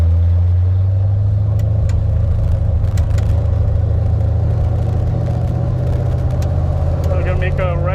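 Red Ford Mustang engine droning loud and steady while driving, a constant low rumble with slight rises in revs throughout, close and continuous.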